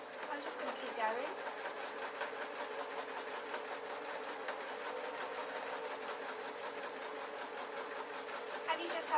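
A domestic sewing machine runs steadily and stitches a gossamer layer top with a fast, even mechanical chatter, close and continuous. A voice talks faintly over it.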